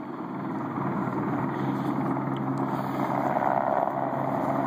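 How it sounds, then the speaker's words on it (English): A helicopter circling back and forth drones steadily overhead, its rotor thrum constant and fairly loud, with no voices. "I don't know why this helicopter's circling back and forth."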